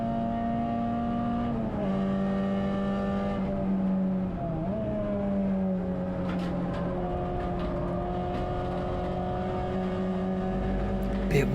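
Touring cars in a CSCC Tin Tops race lap the Silverstone GP circuit, heard from onboard: a loud, continuous engine drone that rises and falls through gear changes and corners, with other cars audible nearby.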